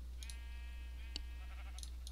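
A sheep in the Minecraft video game gives a short, thin bleat over a steady low hum, faint and brief, with a few soft clicks around it.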